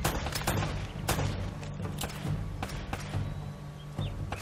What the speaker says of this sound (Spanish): no me atrevo a recargar mientras disparo